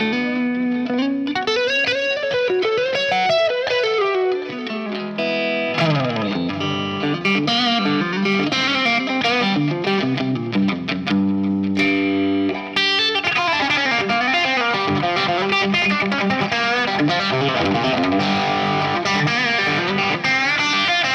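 Distorted electric guitar on a Suhr instrument with the volume preset engaged in split mode, playing a continuous rock phrase with bends and sustained chords, loud and up front with no talking.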